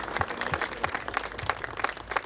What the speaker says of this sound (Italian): A loro è stato dedicato un applauso corale.